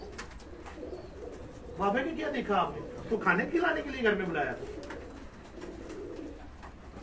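A pigeon coos in a few soft, rolling calls close by, heard under a man's ongoing conversation in Hindi or Urdu.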